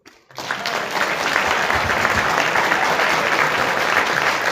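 An audience at a book presentation breaks into sustained, loud applause that starts abruptly and holds steady as a dense wash of clapping.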